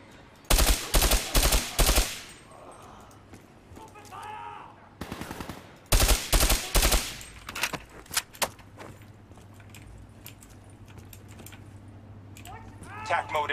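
Rapid automatic gunfire from the Black Ops III campaign comes in loud, dense bursts, with several clusters of repeated shots separated by quieter stretches, while voices speak in between.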